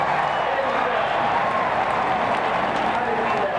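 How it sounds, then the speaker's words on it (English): A large crowd cheers and applauds at Auto Club Speedway in Fontana during the final laps of a NASCAR Sprint Cup race. The roar is dense and continuous throughout. "Listen to the crowd."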